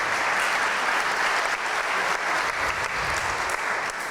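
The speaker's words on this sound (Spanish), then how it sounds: "Un aplauso, por favor, a nuestro ponente" An audience at an international forum on economic, social and cultural rights applauds a speaker, dense even clapping sustained for about four seconds at steady loudness.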